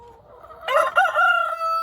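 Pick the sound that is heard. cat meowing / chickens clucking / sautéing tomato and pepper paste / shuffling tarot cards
chickens clucking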